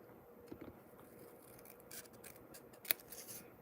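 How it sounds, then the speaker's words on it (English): Scissors snipping a small piece from a beadwork panel: a few faint, close clicks and short cuts, with one sharper snip near the end, over quiet room noise. "So what I'll do is that I will just cut away that little piece there."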